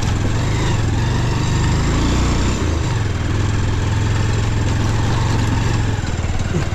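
A motorcycle engine chugs steadily and loudly up close during an off-road ride along a narrow footpath, a continuous low throbbing drone with a slight dip partway through.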